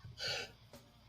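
A single short, sharp sneeze bursts out close and loud at the very end, preceded by a faint breathy intake.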